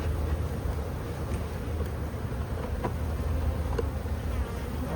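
Honey bees droning around an open hive during a hive split outdoors, a dense continuous buzz close by with individual bees passing the microphone.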